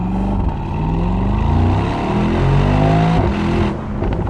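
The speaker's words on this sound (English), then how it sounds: "I can't get enough of the AMG performance exhaust note." A Mercedes-AMG SL55 roadster accelerating hard, its AMG performance exhaust roaring loud and close with rising revs and a brief shift break before pulling on.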